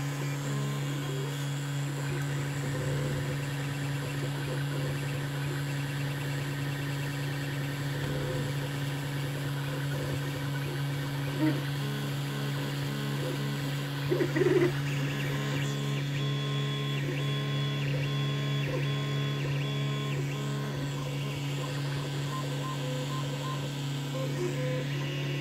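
A 3D printer prints a bridging layer across open air, a steady whirring hum of motors and fans with faint tonal stepper whines and a brief louder clatter midway, no talking.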